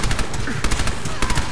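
A submachine gun fires in Fallout 4, letting off loud, rapid bursts of cracking shots in quick succession with brief gaps between volleys.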